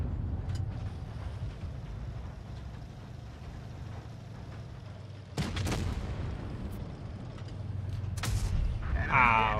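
Tank cannon fire in World of Tanks Blitz bursts out as two sharp booms over a steady low engine rumble, loud and near, with no voices in between.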